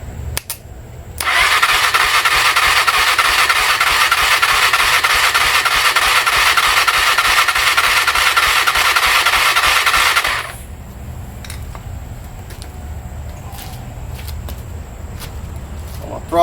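A Honda TRX 300ex ATV engine starts and runs at a loud, steady buzzing idle for about nine seconds, then cuts off, leaving a quieter background with scattered faint knocks.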